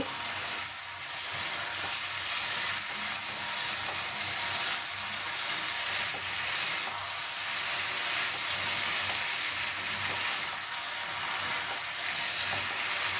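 A cauliflower and potato curry simmers and sizzles in a pan after a little water and salt are added, a continuous even frying hiss with faint stirring movements, no one talking.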